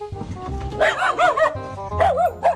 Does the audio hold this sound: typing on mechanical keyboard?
no